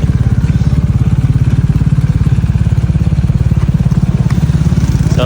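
Motorcycle engines rumble and rev loudly and up close in a fast, throbbing rhythm, steady throughout.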